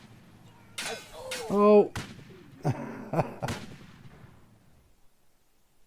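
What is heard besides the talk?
grenade thrown and exploding in video game Easy Red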